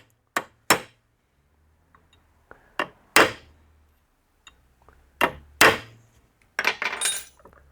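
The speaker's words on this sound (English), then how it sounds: "All right, I'm going to use my other hammer here." Sharp metallic hammer strikes riveting a drive pulley clutch disc, about a dozen irregular blows with pauses between, close by, some landing in quick pairs.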